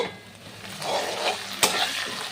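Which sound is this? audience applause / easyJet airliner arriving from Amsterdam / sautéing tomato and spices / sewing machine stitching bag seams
sautéing tomato and spices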